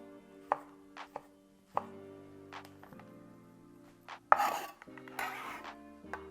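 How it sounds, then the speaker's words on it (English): A knife slicing beef franks on a cutting board, giving scattered sharp taps and a couple of brief scraping strokes over soft background music, close up with no talk. "I'm gonna be cutting the beef franks."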